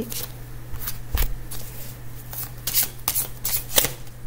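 Tarot cards being shuffled for a three-card spread, a close, crisp series of riffling and sliding bursts with brief pauses between them, no voices present.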